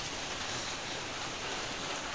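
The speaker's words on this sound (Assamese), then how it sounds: "ইমান বৰষুণ বেলেগ বৰষুণ দি আছে" Heavy rain pours down outdoors in a steady, even hiss with no breaks, faint and distant, and no voices.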